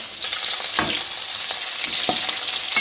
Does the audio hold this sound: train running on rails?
no